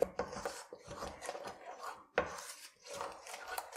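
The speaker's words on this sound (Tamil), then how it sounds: "இப்போ இதெல்லாம் சேர்த்து நல்லா கிளறி விடுங்கம்மா." A utensil scrapes and stirs egg masala gravy with spices in a pan, a soft repeated rasping and rubbing in uneven strokes, fairly faint and close, with no talking.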